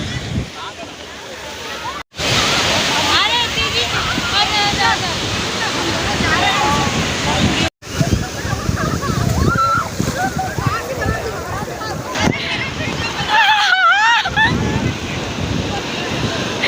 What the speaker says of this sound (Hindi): वो देखो कितना जोर से लहरा आते